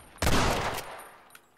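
A single burst of gunfire in the Western shooter Red Dead Redemption cracks out loudly, a sharp blast that decays into a fading rumble with a faint later pop.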